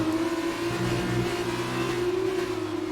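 An F2 racing car engine in the video game F1 2019, a loud steady high-pitched engine whine holding near-constant revs throughout, close and alone with no talk.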